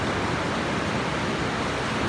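Ocean waves wash continuously at La Jolla beach, a steady broadband hiss of surf with no breaks, fairly soft and without voices.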